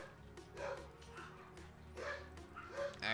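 Pet dogs bark and yip in a few scattered bursts near the microphone while a gamer talks intermittently over them.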